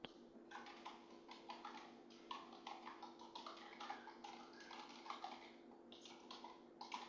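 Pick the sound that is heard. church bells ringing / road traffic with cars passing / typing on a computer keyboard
typing on a computer keyboard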